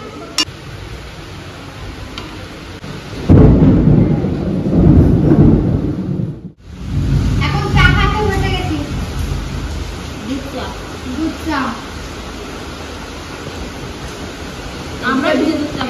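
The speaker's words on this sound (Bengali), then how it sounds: "জোরে বৃষ্টি পড়ছে, জোরে জোরে কথা বলতে হবে, নাহলে শুনতে পাবেন না।" Heavy rain pours steadily in a continuous loud hiss, with a deep thunder rumble swelling midway and fading out, while people talk over the downpour throughout.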